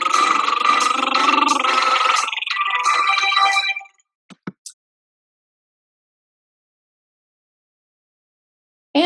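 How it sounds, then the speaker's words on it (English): A singer performs a lip roll vocal exercise, a buzzing, fluttering voiced trill held steadily for about four seconds, followed by a few short faint bursts and then silence. "learn the exercise here, learn how to do a nice lip roll"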